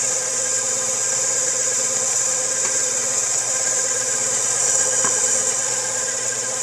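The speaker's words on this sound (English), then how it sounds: "Gotta love this KitchenAid." A KitchenAid stand mixer runs steadily while mixing pie dough for an apple pie, giving a constant motor whine with a faint rhythmic churn and a few small knocks, close and with no talking.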